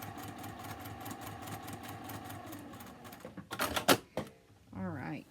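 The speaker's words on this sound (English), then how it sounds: "I'm going to get on this line. And I'm going to sew this way." Sewing machine running steadily, stitching quilt strips together, a close mechanical hum with rapid needle ticking, then a few louder clicks and a brief voice at the end.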